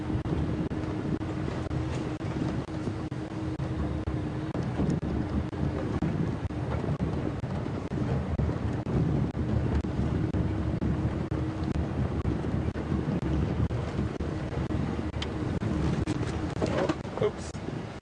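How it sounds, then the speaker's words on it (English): Cold morning wind on an open safari drive at a game reserve, a steady low rumble of wind buffeting the microphone throughout, with a faint engine-like hum and occasional distant bird calls. "So on a cold, windy morning like this,"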